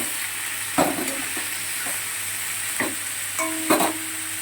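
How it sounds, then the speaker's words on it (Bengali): Potatoes fry in oil in a kadai, giving a continuous bright sizzle. Now and then a spatula stirs with soft knocks and scrapes, heard up close with no voices. "আলুটা একটু লাল লাল করে ভেজে নেবে।"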